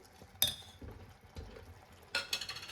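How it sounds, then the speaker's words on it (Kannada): Carrot halwa being stirred with ghee in a pan, heard as a few scraping strokes and sharp clinks of a spoon against metal, close and fairly faint in a quiet kitchen. "ಈಗ ಇದನ್ನು ಹಾಕಿ ಮಿಕ್ಸ್ ಮಾಡ್ಕೊತಾ ಇದ್ದೀನಿ."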